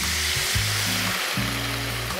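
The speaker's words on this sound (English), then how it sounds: "So we'll add all that red wine." Red wine poured into a hot pan while cooking a duck leg dish, giving a steady close hiss and sizzle with low bubbling underneath, heard alone for a couple of seconds.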